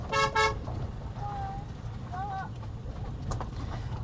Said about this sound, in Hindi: आप हॉर्न दे दीजिए